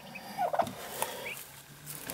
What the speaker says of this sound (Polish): Polski turkey, or chicken, huh?